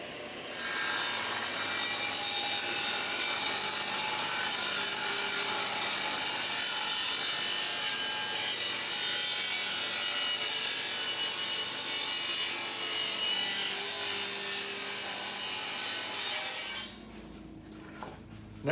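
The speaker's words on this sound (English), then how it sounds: "Cut the back to this height, just a little over 3 inches." A hand saw cuts through a wooden back piece for a demilune table, steady rasping back-and-forth strokes, loud and close, running continuously for about seventeen seconds before stopping.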